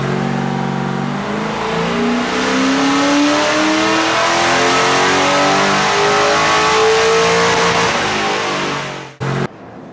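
An LS1 V8 drift car, with a Chopper Reid camshaft and a caged body, run hard on dyno rollers: a loud, close engine note climbing steadily in pitch for about nine seconds, then cutting off abruptly with a brief final blip.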